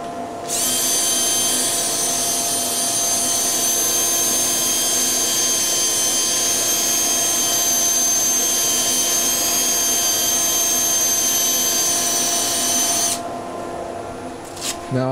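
A power sander with 240-grit paper on wood whines steadily at close range for several seconds, a high continuous motor hum over a gritty rasp, then stops.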